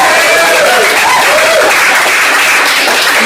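A comedy club audience cheers and applauds at a stand-up set, with loud, dense clapping and whooping filling the room, and a voice briefly rising over the crowd.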